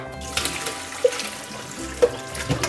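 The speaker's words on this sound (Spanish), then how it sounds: "Vamos a agregar agua para lavarlos bien y los vamos a colar." Water runs from a tap onto beef tripe for washing and straining, giving a steady splashing flow with a couple of brief plops and drips, close and moderate in level with no voices.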